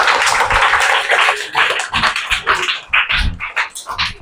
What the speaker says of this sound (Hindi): जोरदार ताली लगाइए इनके लिए।